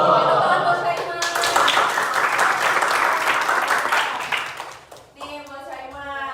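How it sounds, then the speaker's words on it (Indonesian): Classroom of students clapping for a classmate, a dense burst of applause lasting several seconds that fades as a teacher resumes talking. "tepuk tangan buat Syaima."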